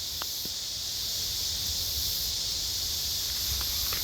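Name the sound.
cicada buzzing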